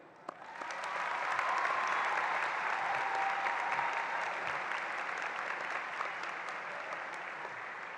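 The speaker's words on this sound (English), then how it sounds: "Graduating seniors, this would be an appropriate time for you to applaud those who have provided you with their support." Graduating seniors at a 2019 high school graduation ceremony applaud in a large, sustained crowd ovation that swells within the first second and holds steady, dense and even, for the whole stretch without speech.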